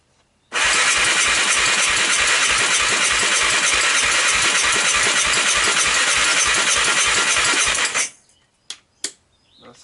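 Starter on a 1998 Honda TRX300EX ATV, an abandoned quad, cranks in a fast, steady rhythmic churn for about eight seconds without catching, loud and close, then stops, leaving a few light clicks and knocks.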